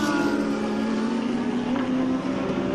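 Endurance race cars, a Porsche 996 and a Lamborghini, racing on a circuit: loud sustained engine drone with a strong steady hum, close and continuous for the whole stretch.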